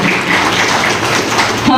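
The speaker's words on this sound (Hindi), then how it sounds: "सभी के लिए एक बार वापस जोरदार तालियां चाहूँगी" Applause from the audience at a karaoke awards ceremony in Worli, a steady dense wash of clapping lasting the whole moment with a faint voice underneath.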